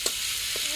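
Green chili and ginger paste fry in a pan with a loud, steady sizzle, close by, punctuated by a couple of faint clinks from stirring.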